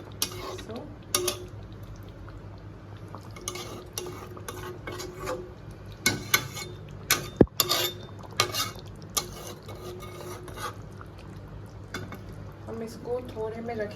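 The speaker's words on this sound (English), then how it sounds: "Till then, enjoy the sound of curry." Bengali rui fish curry cooks in a pan with a low, quiet simmer, broken by scattered clinks and scrapes of a utensil against the cookware.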